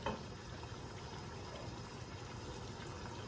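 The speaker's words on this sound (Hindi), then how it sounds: "अब मैं इसके अंदर डाल रही हूँ पानी।" Water poured into a pot of dal cooking for beef haleem, a steady continuous splashing rush that stays even and fairly quiet throughout, with no talking.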